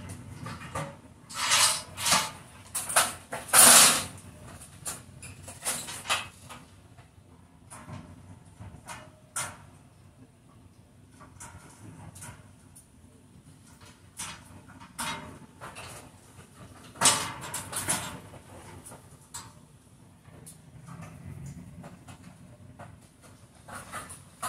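A folding wall-mounted clothesline rack is slotted onto its bracket with a few sharp plastic and metal clicks and knocks, sparse and close, with quiet handling noise between them.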